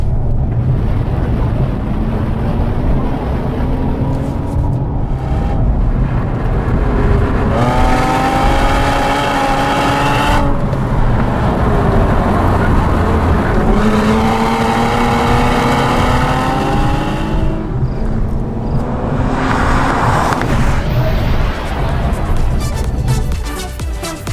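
A Toyota Camry TRD engine revs hard on a race track, rising and falling through several gears over steady wind and road roar, loud and close from inside the car, with no talking.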